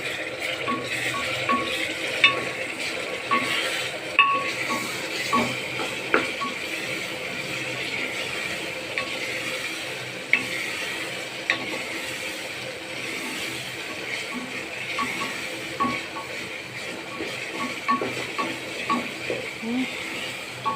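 Onion with ginger paste and masala frying in a pan for mutton, stirred steadily, giving a constant close sizzle with scraping and clinking strokes at an irregular rhythm, no talking.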